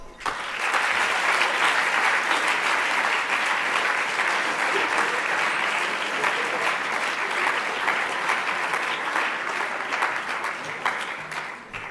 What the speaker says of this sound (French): Je vais demander d'applaudir Charles Laroche.